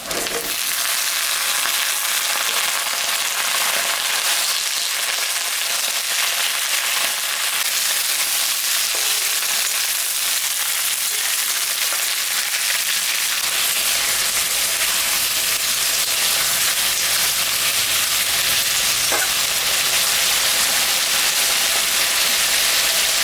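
Ridge gourd frying with onion in a pan with a constant hiss and occasional stirring scrapes, loud and close, continuing for over twenty seconds without speech.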